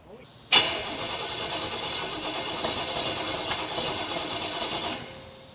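A 1951 Chevy 3100 farm truck with a swapped-in 350 crate engine cranks and fires, then settles into a rough, uneven idle with occasional sharp pops, close and fairly loud.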